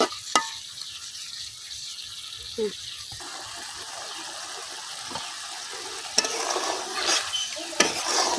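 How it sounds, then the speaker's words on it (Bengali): Chanda fish sautéing in a pan for a sour curry made with chukka leaves, a steady close sizzle with a few sharp clinks and scrapes of a spatula stirring against the pan. "এখন 2-3 মিনিটের মতো মাছগুলো কষাই নিলাম।"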